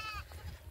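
A sheep grazing on an open upland pasture gives one short, faint bleat at the start, followed by soft low background noise.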